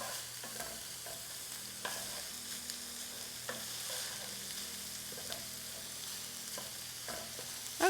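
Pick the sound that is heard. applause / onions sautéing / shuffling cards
onions sautéing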